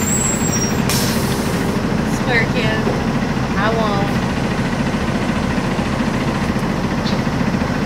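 Engine of a moving bus rumbles loud and steady throughout, with short hissing air-brake releases and mechanical squeaks near the start; people talk briefly over the drone.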